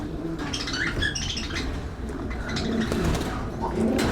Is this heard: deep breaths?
no